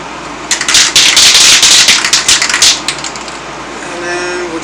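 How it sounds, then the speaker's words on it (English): A spray paint can for painting brake calipers red is shaken hard, its mixing ball rattling in rapid, loud clacking bursts for a couple of seconds before stopping, followed by quieter room noise. "So then let's shake the paint can."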